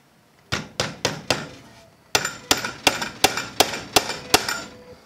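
The hammer poll of a hatchet strikes a nail: eleven sharp, ringing impacts, a group of four and then a steady run of seven, each with a short metallic decay, close and clear with no talking.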